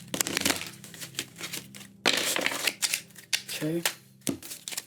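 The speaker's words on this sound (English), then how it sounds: "one last shuffle" Oracle cards being shuffled by hand: a few short papery riffling bursts and crisp flicks spread across several seconds, close and fairly loud, with someone speaking between them.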